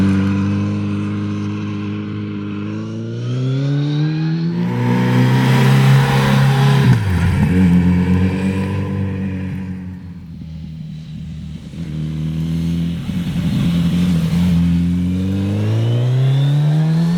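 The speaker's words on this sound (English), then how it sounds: "listening, by the way, to one of the best 4-cylinder sounds I've ever heard from a Euro 5 compliant production bike" A Kawasaki Z900 RS four-cylinder Euro 5 production motorcycle revs up and down repeatedly, a smooth, close, loud engine note rising and falling with no talk.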